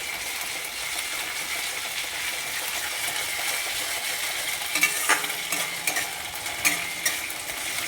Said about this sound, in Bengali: এরপর আমি আদা রসুনের পেস্টটা দিচ্ছি।